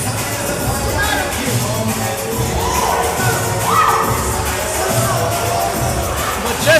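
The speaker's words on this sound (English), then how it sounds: "the crowd goes wild here" Loud, dense crowd roar and cheering at a professional wrestling match as the winner is declared, a steady wall of noise with scattered shouts and a swell near the end.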